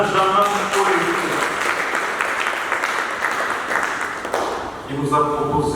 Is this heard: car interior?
no